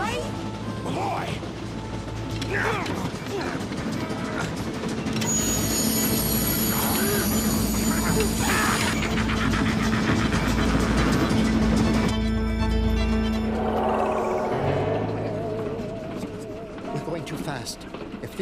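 Cartoon train engine running with a continuous mechanical rumble, squealing metallic tones and crashing effects, overlaid by characters talking and shouting.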